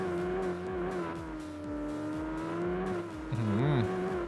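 A car engine in the mobile racing game Drive Zone Online drones steadily, then revs up sharply near the end, rising and falling in pitch over a pulsing low rumble.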